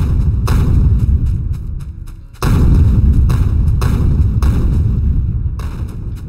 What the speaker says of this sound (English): Let's get these grenades out.